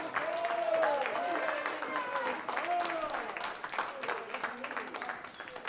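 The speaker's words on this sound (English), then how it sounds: "So give him a round of applause to help him." Applause from a Christmas concert audience for a high school concert band's narrator, a moderate, even spread of clapping throughout, with voices speaking over it.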